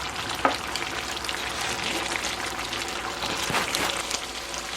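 Cabbage and peppers stir-fry in a pan with a steady, close sizzle and crackle throughout, with a sharp utensil clack near the start and bursts of stirring later on.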